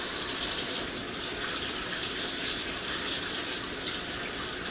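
A kitchen tap runs in a strong, steady gush into a sink while items are washed with soap, a continuous close water noise with no talking.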